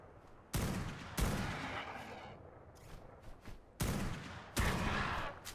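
Gunfire in ARK: Scorched Earth: four loud, sharp shots in two pairs, each with a decaying tail, separated by quieter stretches of game ambience.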